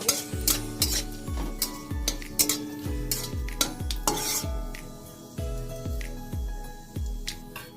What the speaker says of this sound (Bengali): আর তেজপাতা দিয়ে দিলাম এইটা গেল আমার ফোড়নে একটু লাল করে ভেজে নিতে হবে ফোড়নটা